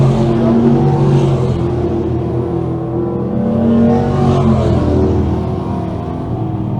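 602 crate sprint cars race around the Can Am Speedway oval mid-feature, a loud continuous wall of engine roar that swells and fades slightly as the pack circles, steady throughout with no talk.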